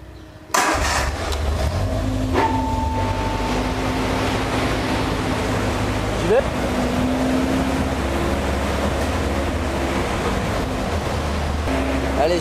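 A Westfield sports car engine running on a dyno, a loud steady rumble that holds its pitch for the whole stretch, with a faint whine rising above it partway through and no voices.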